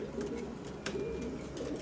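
Soft, low pigeon coos repeat quietly against a faint outdoor background, with a murmur of voices.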